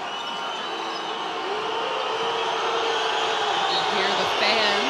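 Loud, steady roar of basketball fans filling an arena during a women's EuroBasket final-round game between Spain and Serbia, a dense continuous crowd wash that swells slightly toward the end.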